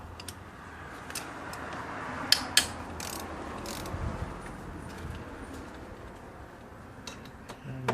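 Ratchet with a swivel working on a bolt of an oil filter housing on a BMW E90/E92/E60, with a few sharp metallic clicks and cracks at mid-distance over steady background noise.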